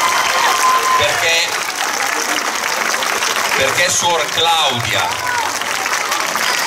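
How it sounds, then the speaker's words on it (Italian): A crowd at a summer youth camp's closing-night show gives loud applause for the nuns, sustained and thick throughout, while voices speak and call out over the clapping. "a cui un applauso lo facciamo molto forte"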